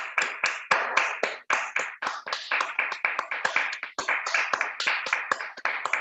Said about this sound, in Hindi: जोरदार ताली होनी चाहिए सभी दोस्त